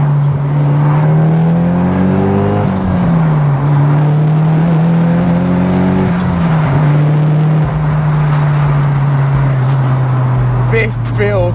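A Nissan S15 Silvia accelerates hard, its engine note steady and loud with rising and falling harmonics through gear changes, heard from inside the car for the whole stretch.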